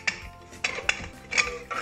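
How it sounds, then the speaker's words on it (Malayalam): A pressure cooker holding chicken biryani is shut, giving several sharp metallic clanks and scrapes of the lid against the pot, close and irregular with no speech. "ഇനി നമുക്ക് കുക്കർ അടയ്ക്കാം"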